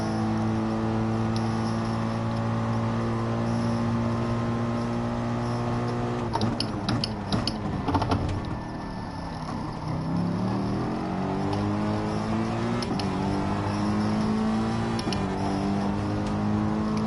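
A McLaren race car engine in a racing video game, droning loudly at a steady high pitch, then dipping and climbing again through the rev range as it shifts gears, with no talk.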